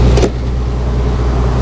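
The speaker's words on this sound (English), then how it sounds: "So you can hear that fan's on because it's pumping coolant." The coolant cooling fan runs steadily on a 2007 Prevost H345 mobile medical coach bus, a constant low mechanical whir heard close up, with a brief sharper rustle at the start.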